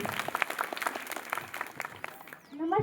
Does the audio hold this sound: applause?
yes